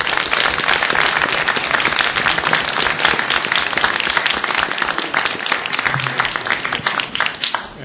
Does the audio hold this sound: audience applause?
yes